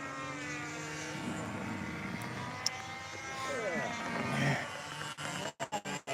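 PT-19 model airplane taxiing, a faint buzzing propeller engine whine that swells and shifts in pitch, ending with several sharp bumps and clatter near the close.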